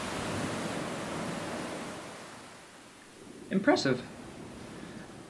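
AI-generated beach soundscape for Hana on Maui, Hawaii: a steady broadband wash of surf and wind that dips midway, with one short spoken word near the end.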